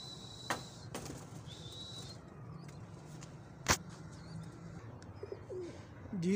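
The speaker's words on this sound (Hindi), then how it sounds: "ये सारे अपने कबूतर मैंने बाहर निकाल दिए, अब देखते हैं ये आता है कि नहीं आता" Pigeons coo softly in a quiet outdoor setting, with a few sharp wing flaps and light bird chirps scattered across the scene.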